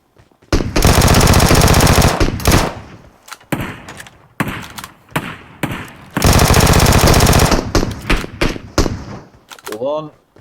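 Rapid automatic gunfire from a player's weapon in a video game, two long loud bursts separated by scattered single shots and thuds, with a voice talking faintly at times.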